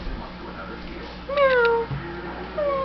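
A cat named Pearl gives a couple of short rising-falling meows close by, with a person talking to her around them in a home setting.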